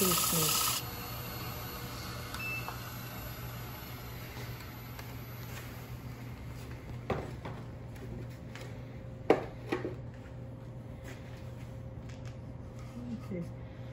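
Bowl turning tool taking very light cuts on wood spinning on a lathe, a faint soft rasping with a steady low motor hum and a few small clicks, mostly quiet after a brief louder start.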